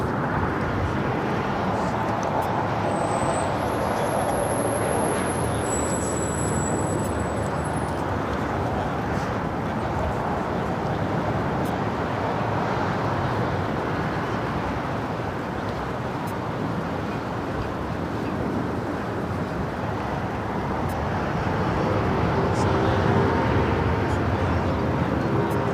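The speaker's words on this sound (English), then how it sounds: "I feel like the plane taking off is right in front of us." A jet airliner takes off from a runway at LAX airport, a broad sustained roar that holds steady for nearly half a minute and swells slightly toward the end, with a few faint high electronic tones above it.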